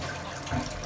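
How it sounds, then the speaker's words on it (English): Water runs steadily from the hand-wash tap on top of a Japanese toilet tank, a soft continuous trickle and splash into the basin, heard alone and close. "And the water actually comes down in the bowl."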